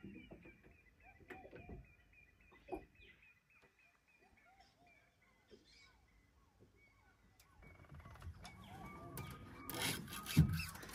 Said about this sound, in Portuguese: vamos escutar esses passarinhos aí para ver qual que você conhece aí